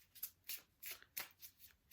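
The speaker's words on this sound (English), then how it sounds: "Give the cards a little shuffle." Soft, quiet riffling of playing cards being shuffled in several quick bursts, close by with no talking.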